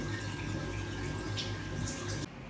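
Water from a tap runs steadily into a home sink while its waste bottle trap is checked for leaks, giving a constant close rushing splash that drops abruptly near the end.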